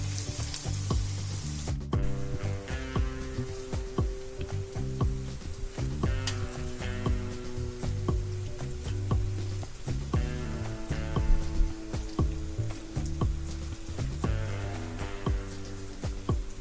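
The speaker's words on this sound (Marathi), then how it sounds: "आता ही अशी सोडूया तेलात." Shingala catfish frying in hot oil, coated in spice masala, with a loud, continuous close sizzle and crackle under steady background music.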